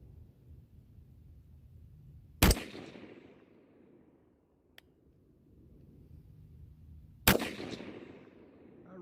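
Two loud 6.5 Grendel rifle shots from an 18-inch barrel fired a few seconds apart outdoors, each a sharp crack with a short fading echo, over faint background noise.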